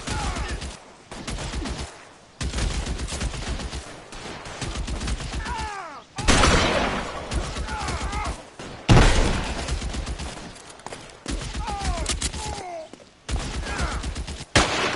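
Repeated bursts of gunfire in the video game L.A. Noire, loud sharp shots in clusters separated by brief pauses, with voices heard between them.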